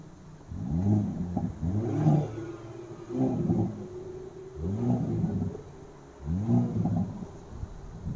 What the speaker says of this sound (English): You can hear the exhaust baffles are opened up when you put it in the N mode